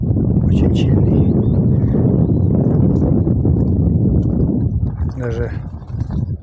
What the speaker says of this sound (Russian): Видите, как сразу ветер очень сильный.